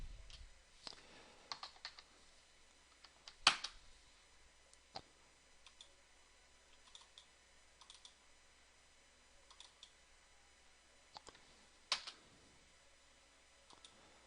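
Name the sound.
typing on a computer keyboard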